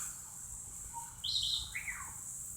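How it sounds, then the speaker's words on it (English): Birds chirp outdoors near a cast iron pan on an old kerosene stove, with a couple of bright short calls and a brief descending trill over a steady faint background hiss. "Just hearing the birds."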